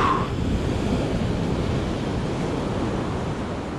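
Surf rolling onto a beach on the Holderness coast at Atwick and Hornsea, a dense, steady wash of breaking waves with wind noise, loud and close, no voices.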